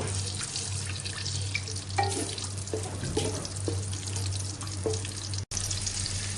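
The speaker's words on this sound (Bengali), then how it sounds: "এখন আমি আগে রসুনটাকে হালকা করে একটু ভেজে নিব।" Chopped garlic frying in a pan for pickle, a steady close hiss and crackle running throughout with a low hum beneath and a few soft clinks, no voices.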